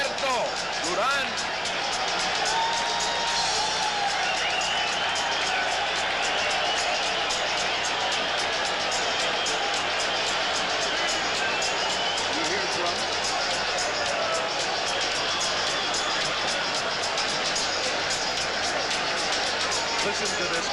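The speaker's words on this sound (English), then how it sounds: "Listen to this crowd" A boxing crowd at Madison Square Garden roars and cheers continuously for Roberto Duran's fight with Sugar Ray Leonard, a dense, loud wash of voices and hubbub throughout with an announcer speaking over it.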